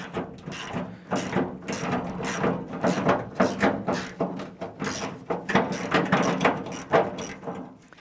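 A ratchet loosening a bolt on the tailgate of a 1993–1997 Ford Ranger, a quick series of clicking ratchet strokes in uneven bursts, close and clear with no talk.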